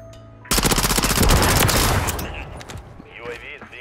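A sudden burst of rapid automatic gunfire in the Modern Warfare III shooter, a P90-style weapon among the guns, loud and continuous for about two seconds before fading into scattered game effects.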